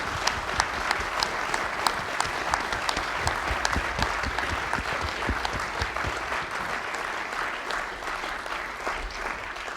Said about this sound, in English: Could we just give them a round of applause all as one?